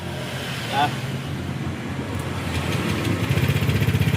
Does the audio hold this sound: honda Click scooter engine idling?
yes